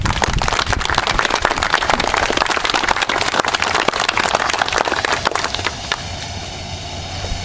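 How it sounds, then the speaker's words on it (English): A reunion audience for a USS Frank Knox wardroom gathering breaks into dense, loud applause of many hands clapping together. The sound continues steadily and then thins toward the end, where a lower background hum remains. "Please join me in applause for Steve and the Frank Knox Reunion Officer."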